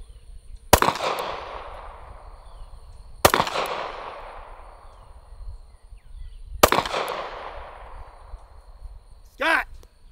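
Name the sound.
CheyTac M200 Intervention .408 sniper rifle shots at steel targets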